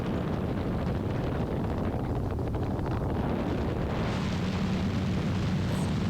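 An ELA 07 gyrocopter's engine drones steadily, mixed with heavy wind buffeting, continuous and fairly loud throughout, with no voices.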